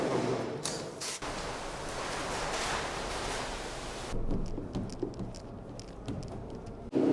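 A garage floor being wetted down to settle dust: about four seconds of close, steady watery hiss that suddenly stops, followed by scattered light knocks and clatter.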